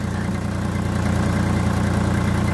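A farm tractor engine idles in a steady low rumble with constant vibration, close and even throughout, with no voices.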